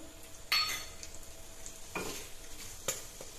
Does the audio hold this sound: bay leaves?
yes